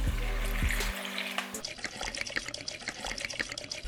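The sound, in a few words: watering a plant in LECA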